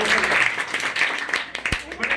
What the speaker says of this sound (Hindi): बताइए ताली